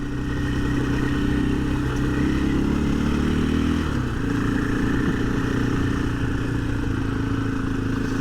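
A 2024 KTM 500 EXC-F dirt bike engine chugs steadily at low revs while riding on easy terrain in second or third gear, with a brief dip near the middle before it pulls back up, loud and continuous throughout.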